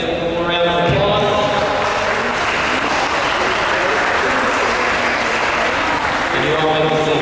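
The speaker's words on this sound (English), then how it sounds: "Let's give them one more round of applause." Sustained applause from a crowd at a sixth-grade awards ceremony, dense clapping that swells and holds steady for several seconds, with faint voices near the start and end.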